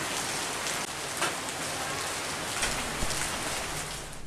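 Steady rain pours down during a night-time street inspection in Palembang, a dense, even hiss of drops on surfaces, fairly close and continuous, with a few louder patters.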